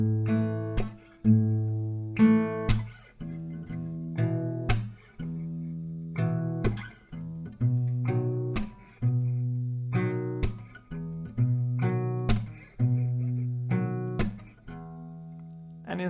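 Acoustic guitar playing a song intro at a slightly quicker pace, plucked notes and chords ringing in a regular pattern, close and clean with no voices.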